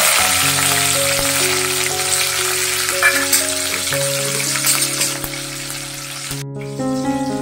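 Mustard seeds crackle and sizzle in hot oil for a masala, a steady dense frying hiss with bright pops running throughout over a low background hum, close and fairly loud, with no talking.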